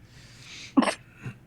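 A single sharp sneeze bursts out close by in a quiet room during a tabletop role-playing session, followed by a softer breathy sound.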